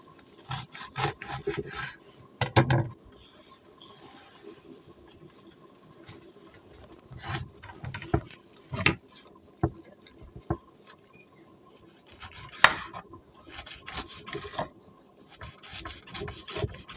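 Ingredients for mukimo being cut by hand, heard as scattered scraping and chopping strikes in irregular bunches, close and fairly quiet, with quieter stretches in between.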